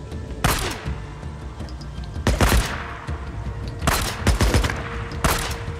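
Gunfire in the video game Days Gone, several loud bursts of rapid shots in clusters separated by short gaps, heavy and close.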